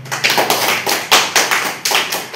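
Crowd applause for a district collector at a medical camp event in Ooty, several quick bursts of loud, close clapping in an uneven rhythm.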